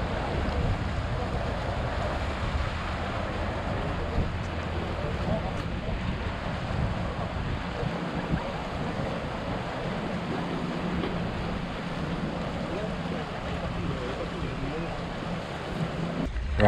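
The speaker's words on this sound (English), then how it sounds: "That's probably almost as strong a wind as it's been in." Strong wind roars steadily across the microphone aboard a boat at anchor in a swell, with low rumbling buffeting and a wash of water and surf beneath, continuous and loud throughout.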